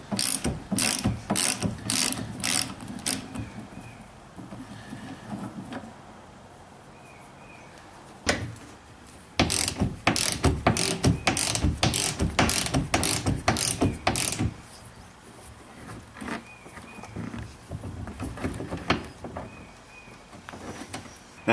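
A hand ratchet fitted with a 13 mm socket works on the wiper motor of a C5 Corvette, giving close, rapid bursts of clicking in two long runs with quieter pauses between, and no talk.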